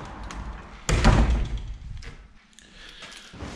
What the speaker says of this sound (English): Let me close this door a second.